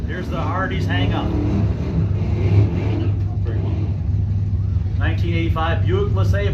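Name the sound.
1985 Buick LeSabre drag race car accelerating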